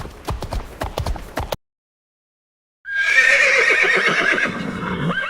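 Hooves clip-clop in a quick rhythmic series, then after a short silence a horse lets out a loud, drawn-out whinny with shaky, trembling pitch.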